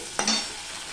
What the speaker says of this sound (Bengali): উচ্ছেগুলো দেখো আমি উল্টে পাল্টে ভেজে নিচ্ছি।